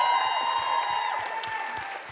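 Audience applause for a band at a live radio studio session, fairly soft scattered clapping under a sustained ringing musical tone that fades slowly.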